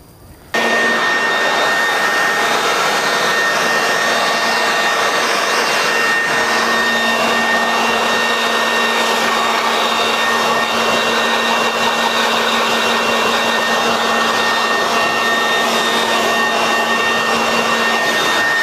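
An air blower dries a Mercedes C450 AMG, a steady loud whooshing roar that starts abruptly and runs without break, with a faint tonal whine riding on top and no talking.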